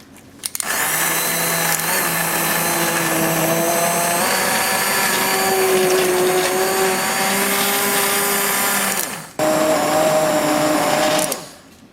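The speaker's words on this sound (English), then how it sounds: "I'm going to take my immersion blender and blend away" An immersion blender whirs through birria consommé in a long steady run of high motor whine, briefly cutting out and restarting before stopping, loud and close with no talking.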